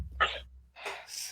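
A person sneezes sharply once, close and fairly loud, followed by a breathy exhale and a short sniff during a relaxed podcast conversation.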